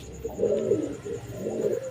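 A pair of Giribaz pigeons coo in soft, repeated low throaty phrases, close by and fairly steady over a faint background hum.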